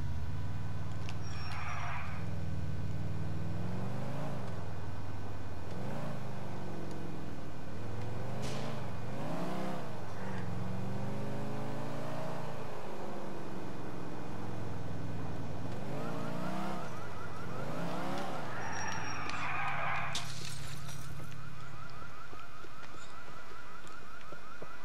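An old beat-up car in GTA IV drives off, its engine droning and rising through repeated revs and gear changes, loud and close. A siren-like wail joins near the end.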